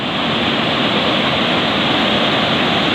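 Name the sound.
waterfall at Tili Ti Nuang Falls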